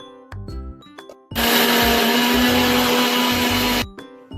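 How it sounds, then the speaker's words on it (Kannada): A kitchen mixer grinder whirs loudly and steadily for a couple of seconds as it grinds a wet mixture into paste with added water, framed by short clicks and rattles of the jar before and after. "ನೀರು ಆ್ಯಡ್ ಮಾಡಿ ಮತ್ತೆ ಮಿಕ್ಸ್ ಮಾಡ್ತೀನಿ."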